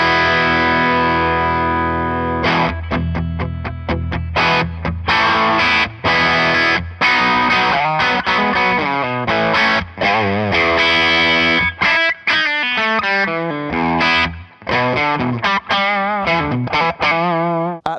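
Electric guitar played through a 25-watt amp with the gain pushed on voice 1, giving a loud, overdriven tone with a wash of chorus-like modulation as chords and single-note phrases ring and stop in bursts, with no voice.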